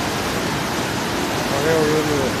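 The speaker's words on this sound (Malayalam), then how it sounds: "വെള്ളച്ചാട്ടം" Waterfall at Hønefoss, Norway, heard as an even, hissing rush of falling water filling the background, with a faint voice briefly rising above it near the end.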